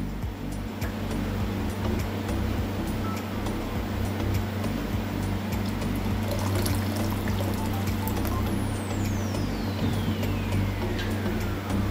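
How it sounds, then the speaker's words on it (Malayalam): Water pours steadily into a pot of beetroot rasam, a continuous close splashing rush that carries on without pause and with no talking. "കുറച്ചും കൂടെ നമുക്ക് വെള്ളം ഒഴിക്കാം"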